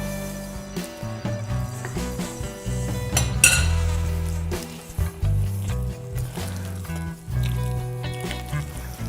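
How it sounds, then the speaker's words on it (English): A spatula folds lemon raspberry muffin batter in a bowl, giving a string of close clinks, scrapes and knocks against the bowl at an uneven rhythm, with no talk. "We're going to stir this. Should probably use a spatula. It's probably a little bit easier to fold this all in."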